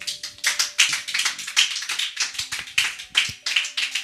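Church congregation applauding in praise of the Lord during a French-language sermon. The clapping comes in quick, uneven bursts of sharp slaps that rise and fall, close and fairly loud, with no speech over it.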